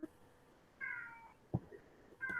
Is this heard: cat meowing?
yes